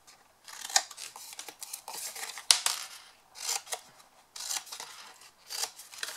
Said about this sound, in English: So I'm going to cut the four corners again.